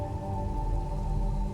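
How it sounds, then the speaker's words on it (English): Steady rain in a dramatic film soundtrack, a dense continuous wash of falling water with a low rumble beneath, even and unbroken throughout. "now the rain fades back in as Sullivan approaches"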